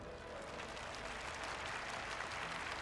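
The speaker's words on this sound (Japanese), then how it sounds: "拍手お願いします。" Crowd applause at the Final Fantasy XIV Tokyo Fan Fest 2024 keynote, a faint, distant wash of clapping that swells slightly and holds steady.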